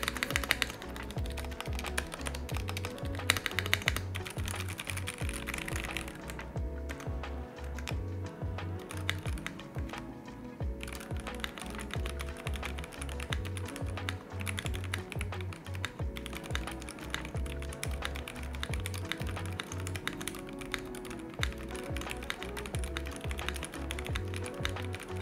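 Rapid, steady typing on a wireless gasket-mount keyboard with PBT double-shot cherry-profile keycaps, a dense run of close, soft clacks that continues for the whole stretch with only brief lulls.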